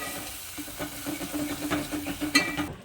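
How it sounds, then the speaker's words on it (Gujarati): Spoon stirring a mixture of curd, turmeric, salt and spices in a bowl, giving soft repeated scraping and wet churning strokes close by, with no talking. "ત્યારબાદ 2 ચમચી દહીં એડ કરીને બરાબર મિક્સ કરી લઈશું."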